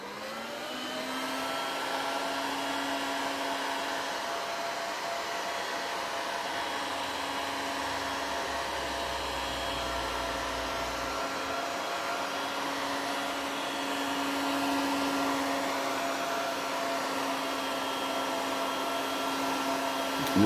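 A heat gun blows steadily while heating vinyl over a Honda ST1100 motorcycle seat, a continuous close whirring hiss with a steady fan tone that barely changes for twenty seconds, with no speech.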